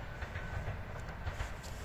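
A new Škoda 16EV electric train departs Bulduri station in Jūrmala, Latvia, rumbling past steadily with a low, continuous roar and faint rhythmic clacking of wheels over rail joints.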